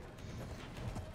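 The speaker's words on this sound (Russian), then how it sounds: "О, смотри, я на коняшку сел." Horse hooves clip-clop in a video game with a steady, muffled trot that runs continuously over a dense background of game noise.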